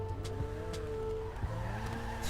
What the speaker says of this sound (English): The wheels spin loads